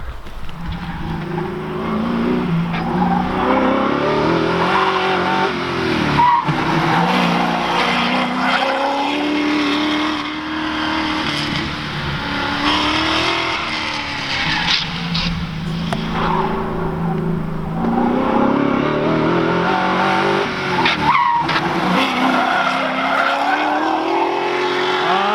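An Oldsmobile Cutlass time attack car autocrossing on a karting track, its engine loud and revving up and down while the tires squeal and skid through turns, continuous and close.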